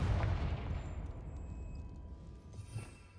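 The Confringo fire spell goes off in the Hogwarts Legacy video game as a deep, muffled boom that rumbles and slowly fades, with a faint pop near the end.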